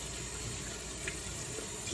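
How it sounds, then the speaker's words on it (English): Dirty water runs into a sink while a filthy vacuum cleaner is rinsed out, giving a constant loud rushing stream like an open tap, steady and close throughout with no talking. "a lot of dirty water is starting to come inside this sink here because this thing is full of filth"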